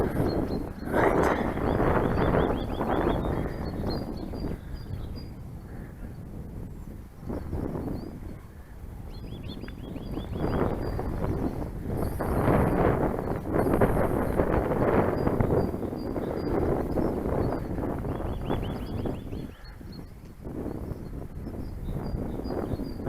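Gusty wind at an RC glider launch field where a Vedette glider goes up on an 80 m high start, buffeting the microphone as a steady, loud, low roar that swells and eases for the whole stretch.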